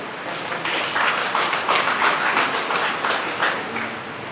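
Steady applause from an audience at a World Water Day 2016 college event, a broadband wash of clapping that holds at an even level for several seconds with no talk over it.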